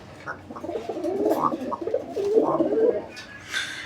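A Coloring Raj Golla pigeon cooing nearby in soft, low, rolling coos, in two bouts with a short pause between.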